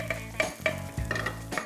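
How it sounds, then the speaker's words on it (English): Bacon with sofrito and garlic sizzling and popping in a pan, steady frying hiss broken by repeated scraping stirs, close and fairly loud. "you can really hear it popping. The bacon is crisping."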